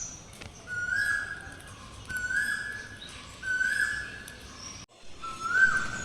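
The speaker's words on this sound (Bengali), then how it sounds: "এত সুন্দর কোকিল ডাকছে যে ব্যাকগ্রাউন্ডে আলাদা করে কোনো মিউজিক দেওয়ার প্রয়োজনই নেই" A cuckoo calls outdoors, giving four evenly spaced, clear whistled notes about a second apart, fairly soft and at some distance, with no talking over it.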